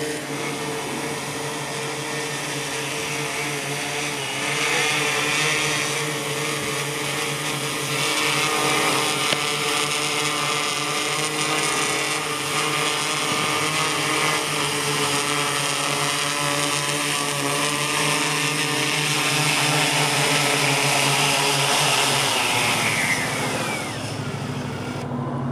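PowerEYE m43 quadcopter drone flying and holding a GPS hover, a steady multi-tone propeller whine with layered harmonics that stays loud and constant throughout before easing off near the end.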